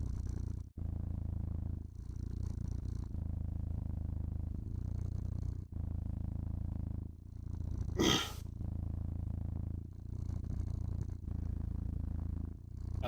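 A loud, deep, rumbling purr like an idling diesel engine runs steadily and close for the whole stretch, broken by brief pauses and one short sharp burst partway through.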